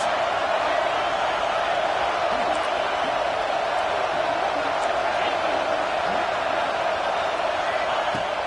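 Steady stadium crowd roar in an NCAA college football video game, a dense continuous wash of cheering from a packed stand on fourth down, loud and unbroken throughout with occasional faint whoops rising above it.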